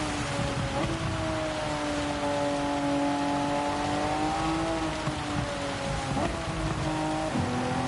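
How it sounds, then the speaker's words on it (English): Rain falls steadily throughout a Gran Turismo 7 race at Suzuka, a constant hiss layered over the sustained drone of a racing car engine that shifts pitch now and then. "That's the rain."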